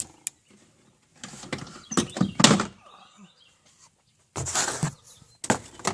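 Rear spoiler on a 2011–2015 Ford Explorer being pried down by hand, with plastic clips giving way in scattered thunks, creaks and rustling bursts separated by brief quiet gaps.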